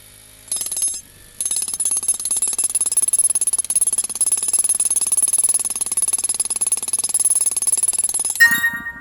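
A power tool breaking a thin stone slab, a loud continuous hammering rattle with a high metallic whine, starting after a short burst and running steadily for several seconds before stopping abruptly.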